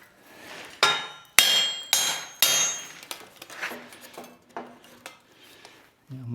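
Hammer blows on the end of a metal stagecoach front axle, mushrooming it over: sharp, ringing strikes spaced irregularly, a few loud hits followed by lighter taps, close up with no talk.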